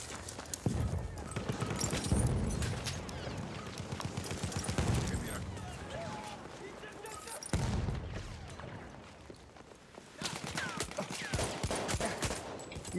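Battlefield 1 multiplayer combat fills the clip with dense gunfire from many directions, bursts and rapid shots crossing continuously and fairly loud, broken by a short lull before heavy firing resumes, with hoofbeat-like clatter mixed in.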